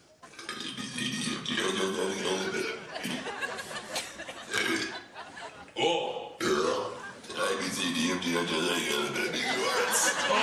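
A man attempts to burp the entire alphabet, producing long, loud, continuous belches with voiced, speech-like shaping, broken by a brief pause midway, with chuckling and laughter mixed in.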